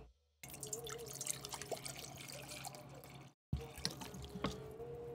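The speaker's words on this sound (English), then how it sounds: "Time to pour some water." Hot water poured from a kettle into a cup of instant noodles, a steady close trickle with a brief gap before the stream resumes.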